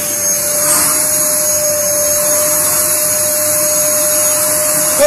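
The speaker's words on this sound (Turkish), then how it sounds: "Elektrik süpürgesini çalıştırıyoruz." A vacuum cleaner runs loud and close as it collects cut hair, its steady whining motor and airflow roar holding without a break.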